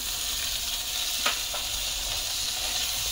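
Ginger-garlic paste, ginger pieces, grated coconut and curry leaves sautéing in a pan give a steady, soft sizzling hiss throughout, with one brief louder crackle partway through and no talking.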